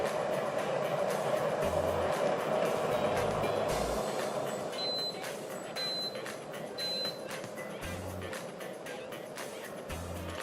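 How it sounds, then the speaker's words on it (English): Three short, high electronic beeps about a second apart from an electric gooseneck kettle, heard over a loud steady rumbling hiss like water at a rolling boil. "So it just beeped."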